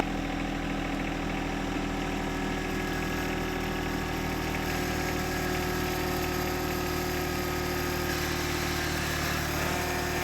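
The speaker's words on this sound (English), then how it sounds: "First, I'll try it at idle again." A John Deere 1025R compact tractor engine idles steadily during a pulling test, a constant close, even mechanical hum with no change in pitch, running alone without talk.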